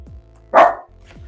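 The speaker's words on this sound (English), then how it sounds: "Sorry, my little guard dog is guarding me right now." One sharp, close bark from a small guard dog cuts through a quiet room, preceded and followed by faint low hum.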